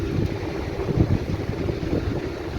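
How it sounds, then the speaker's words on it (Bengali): Wind rushes past the front of a moving train's engine in a loud, continuous, rumbling buffet that stays steady from start to finish, with no voices heard. "প্রচুর হাওয়া লাগছে গাইস"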